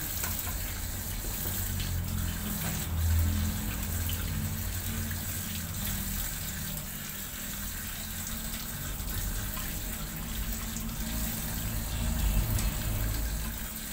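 Tap water runs steadily into a sink, a continuous rushing splash with slight swells as chicken is rinsed under the stream.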